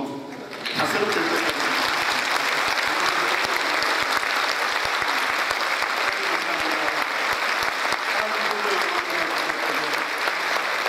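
A concert audience at a choir's founding performance bursts into sustained, loud applause that holds steady for about ten seconds after a brief spoken moment.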